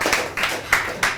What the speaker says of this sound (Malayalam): നിങ്ങളെല്ലാവരും ഒന്ന് ക്ലാപ്പ് അടിച്ച്